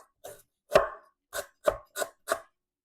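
A knife thinly slices lemongrass stalks on a board in distinct, sharp chopping strikes, about six cuts spaced irregularly over a few seconds, close and crisp, with no talking.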